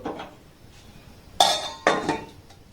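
A lid set onto a pot of milk with rasmalai sweets, two sharp metallic clanks close by after a soft clatter, ringing briefly in a quiet kitchen.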